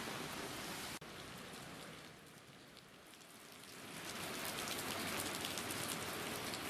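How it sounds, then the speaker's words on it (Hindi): Steady rain falling on surfaces outdoors, a dense hiss of drops that dips slightly mid-way and then swells heavier. There is one sharp click near the start, and no voices. "तो बारिश शुरू हो चुकी है।"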